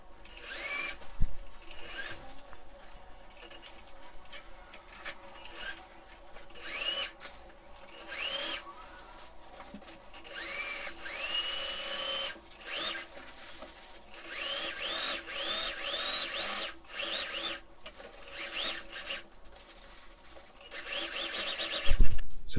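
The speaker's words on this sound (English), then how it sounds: "I'm going to sew down each of these lines just with regular polyester" A sewing machine stitches pleats with regular polyester thread for a motorcycle seat cover, a steady close whirring run with brief pauses and shifts in speed.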